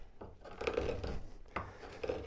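A sharp woodturning gouge sweeps through dense, very hard wood, giving a steady scraping rasp with a few swelling passes that rise and fade at close range, with no voices.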